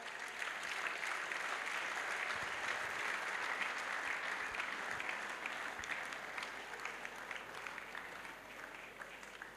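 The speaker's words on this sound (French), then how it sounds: "Acclamez. Clap, venez. Clap, clap." A church congregation at an evangelistic crusade claps hands in sustained applause, a dense, steady wash of clapping that runs the whole stretch at even loudness with no voices standing out.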